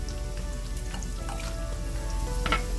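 Large potato pieces cook in a covered pan with ghee, giving off a steady, close sizzle and soft crackle that carries on without a break. A few brighter pops come near the end.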